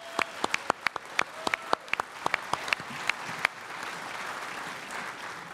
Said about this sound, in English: I want to give them a huge round of applause